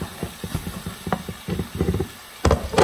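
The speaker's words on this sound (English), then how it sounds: "That weird noise you just heard was the lid to this pan rocking back and forth." A metal pan lid rattles and clatters in quick, uneven bursts, rocking back and forth close by with a sharper clank near the end.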